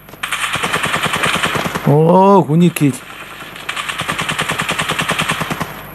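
Automatic gunfire in the shooter game Standoff 2, rapid loud bursts before and after a player's brief excited exclamation.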